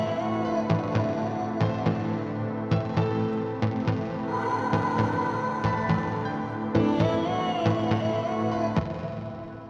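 Chopped vocal samples weave through a deep tech house groove, with steady kick hits pulsing beneath bright, smeared vocal fragments that rise and fall over nearly ten seconds of continuous music.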